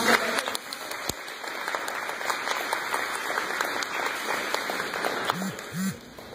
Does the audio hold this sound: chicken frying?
no